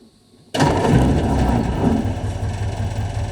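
A hot 1951 Ford car engine catches instantly after near silence and settles into a loud, steady, close-up low rumble, running on without any voices.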